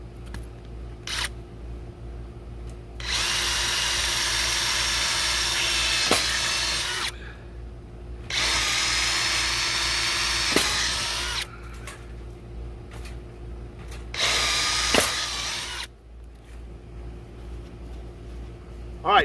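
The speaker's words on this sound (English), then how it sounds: "drill some pre-drill some holes in this thing so when we put our screws in, it won't split this wood" A power drill pre-drills holes in wood for a homemade squirrel feeder, three separate whirring bursts of several seconds each, close by, with quiet pauses and small clicks between them.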